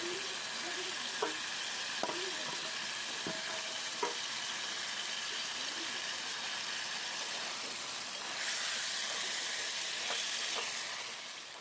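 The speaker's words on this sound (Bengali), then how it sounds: "মশলাটাকে কষিয়ে নিয়ে আমি চিকেনটাকে দিয়ে ভালো করে কষিয়ে নেব" Chicken being stir-fried with onion, cumin and spices in a pan, a steady close sizzle and hiss with scattered clinks and scrapes of stirring, the frying swelling louder near the end.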